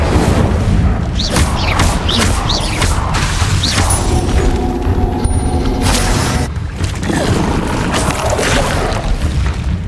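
Repeated Incendio fire spells erupt in Hogwarts Legacy combat, heavy booms and crackling flame bursts rolling over one another in a loud, unbroken wash of game effects, with a brief dip midway.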